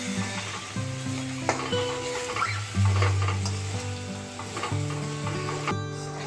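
Ground spices with turmeric and coriander powder frying in oil for potol chingri, a dense steady sizzle close by, with a spoon stirring and scraping now and then.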